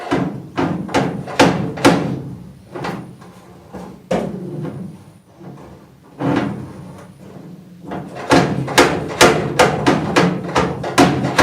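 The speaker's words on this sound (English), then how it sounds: "giving it a tap with the hammer" Sharp metallic hammer taps on the sheet-metal bodywork of a Mk 2 Ford Escort RS2000 under restoration, coming in quick irregular clusters with a short quiet pause in the middle, close and loud.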